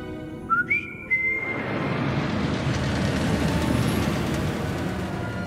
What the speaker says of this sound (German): Pfeifen.